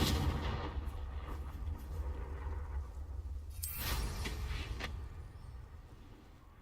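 A Confringo blasting spell in Hogwarts Legacy goes off as a deep, rumbling blast with a sharp crack midway, followed by a fading rumble.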